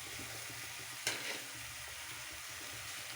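A soft, steady sizzle of fried spice mix going into a hot pan for a potato roll dish, with a brief clink of a utensil about a second in; quiet and continuous with no voices.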